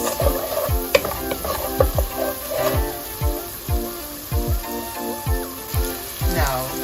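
Curry with pig's tail simmers and bubbles in a pot, giving a steady soft sizzle broken by repeated low knocks and stirring scrapes at close range, with no talk.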